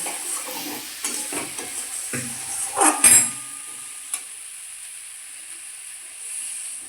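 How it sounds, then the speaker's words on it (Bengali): Fried spices sizzle and hiss in a pan, with a louder burst of sizzling midway as water hits the hot oil, then settling to a steady hiss. "দিব জল"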